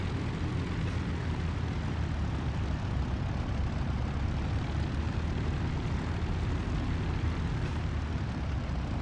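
A Spitfire IX piston engine runs on the runway before takeoff in the DCS World flight simulator, a dense, steady rumbling roar that holds constant and loud throughout.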